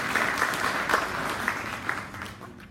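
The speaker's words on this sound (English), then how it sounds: "round of applause if you want" Audience at a general election hustings in Worcester applauds steadily, a dense continuous patter of many hands clapping at moderate volume for nearly three seconds, with no speech over it.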